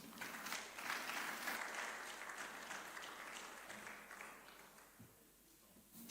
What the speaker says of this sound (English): The clapping, I'm not feeling it here.